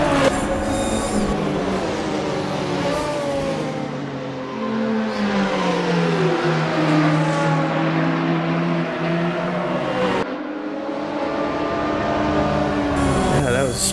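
A Nissan R30 Skyline Super Silhouette race car accelerates down a circuit's back straight, its engine note climbing and falling in loud, continuous sweeps with a brief drop around a gear change.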